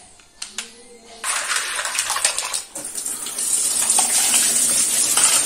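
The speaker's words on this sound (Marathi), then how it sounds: "दोन पाण्याने असं धुवून घेऊया" Clams rinsed by hand in a container of tap water for Malvani-style clam sukha: a few light clinks at first, then steady splashing and sloshing of water close up, loud and continuous with no talk.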